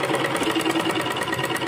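A sewing machine stitching the front of a kurti, a fast continuous mechanical whir with a rapid even needle rhythm, close and steady with no pauses.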